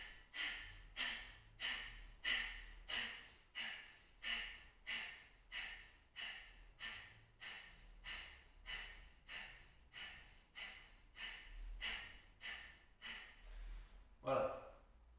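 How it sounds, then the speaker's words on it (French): Forceful Kapalabhati yoga breaths, sharp nasal exhalations repeated in a steady rhythm roughly every second, close and clear, with a brief louder breath near the end. "c'était la technique Kapalabhati"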